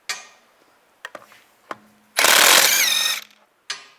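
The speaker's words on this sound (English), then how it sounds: "Take these lug studs out." A 17mm socket works loose the lug bolts on a 2004–2010 BMW X3 rear wheel. A few sharp metallic clicks come first, then a loud grinding whir of about a second and one more click, all close up with no talk.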